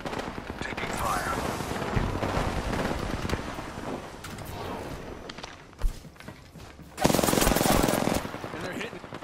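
Gunfire during an Apex Legends Silver ranked match, steady rattling automatic bursts mixed with footsteps and game sounds, loud and continuous, with a sharper volley near the end.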